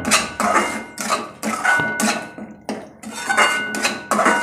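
A utensil stirs salt into cashew curry in a metal pan, giving repeated clanking scrapes in a steady rhythm of about two strokes a second, loud and close with short gaps between strokes.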